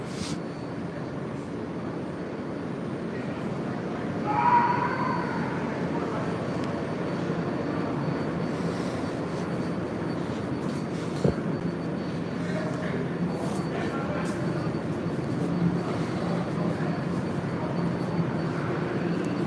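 Steady low rumble and hum of a stationary train interior, with faint distant voices and a brief clunk partway through.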